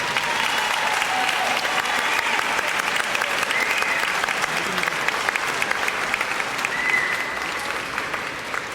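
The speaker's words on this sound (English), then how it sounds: "Big applause." Parents and guests at a kindergarten promotion ceremony clap loudly and continuously for the graduates, a full, steady crowd applause that tapers slightly toward the end.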